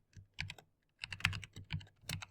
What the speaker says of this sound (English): You just follow what I'm typing.